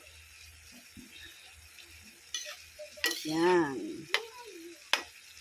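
Mung bean sprouts and bok choy are sautéed in a pan with a soft sizzle and intermittent clinks and scrapes of a utensil, and a voice speaks briefly in between.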